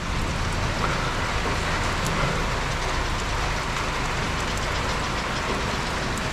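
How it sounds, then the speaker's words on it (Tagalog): Steady rain pours down outdoors on a farm field during harvest, a dense continuous hiss filling the whole stretch at an even, fairly loud level, with no voices. "Kailangan lang po natin magkapote dahil umuulan."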